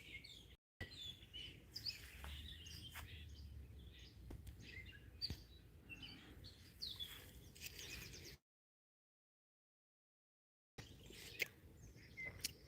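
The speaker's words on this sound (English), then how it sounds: "Love hearing these birds." Small birds chirp and trill outdoors on a sunny day, with quick high tweets scattered over a soft background hush. The calls are faint and distant and stop briefly for a short silent gap.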